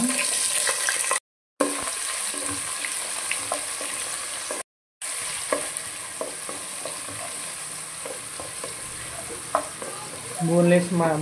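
Green chilies and onions frying with whole spices (bay leaf, star anise, cinnamon, cloves, cardamom) in oil for mutton fry, a steady close sizzle broken by stirring scrapes and two brief gaps, without talk.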